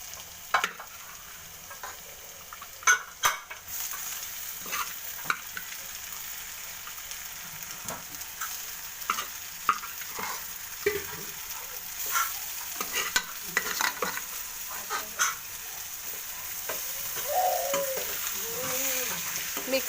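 Cooked keerai greens are stirred into fried onions in a pan, with scraping and knocking of the spoon at an irregular rhythm over a soft, close sizzle, and no talking.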